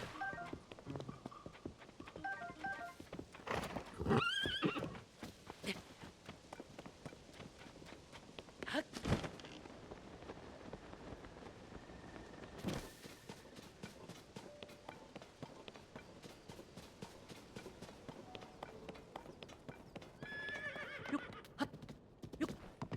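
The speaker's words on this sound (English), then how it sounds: "There's that neigh you like to hear." A horse in the Tears of the Kingdom video game whinnies loudly several times, with a few hoofbeats clopping between the calls over a steady game soundscape.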